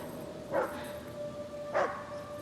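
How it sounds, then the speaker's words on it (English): A dog in the video game Hidden Agenda gives two short barks about a second apart, fairly faint against a steady background hum. "Also a dog."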